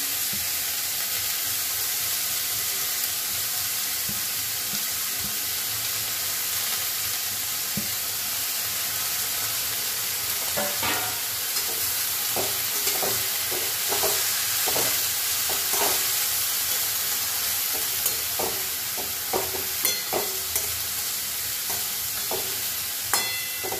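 Red amaranth greens with peanuts frying in a pan, a steady loud sizzle and hiss, with a run of clacking stirring strokes joining in midway, close up and without voices.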